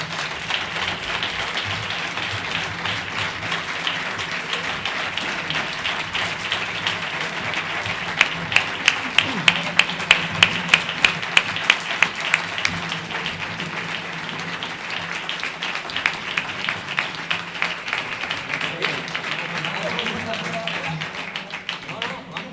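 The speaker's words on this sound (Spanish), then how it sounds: "los artistas, José Ángel, Paco, que son merecedores también de un aplauso conjunto" An audience applauds at a book presentation on the heritage of Los Alcores, with sustained crowd clapping that swells into sharper, more rhythmic claps and then carries on, mixed with some talk.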